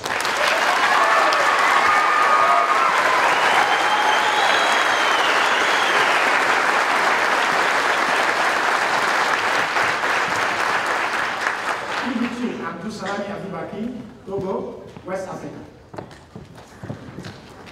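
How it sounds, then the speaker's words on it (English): Crowd at a basic combat training battery graduation ceremony applauding the graduating soldiers: dense, loud, sustained clapping for about twelve seconds, then fading out as an announcer resumes speaking. "Please give these exceptional soldiers a round of applause"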